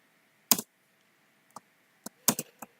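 Code typed on a computer keyboard: sparse, crisp key clicks in small clusters, a loud pair early and a quick burst near the end, separated by quiet pauses.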